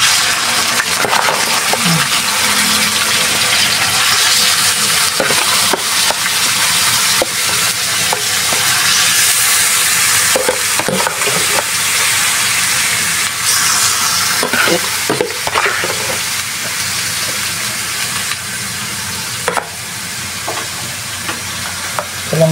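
Native chicken meat fries in plenty of oil for adobong pinatuyo, a loud, steady sizzle running throughout with scraping stir strokes and utensil clatter scattered over it, no talking.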